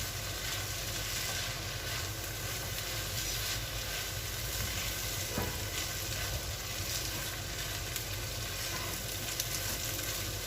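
Mixed vegetables and keema being stirred in a hot pan, a steady, even sizzle with faint scraping that carries on unchanged with no talking.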